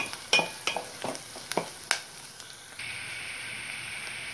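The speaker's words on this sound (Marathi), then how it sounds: "आता यामध्ये आपण हिंग आणि हळद घालून घेणार आहोत।" Asafoetida and turmeric go into hot oil in a pan for a pumpkin curry. A handful of sharp utensil knocks and scrapes lead into a soft, even sizzle that carries on to the end.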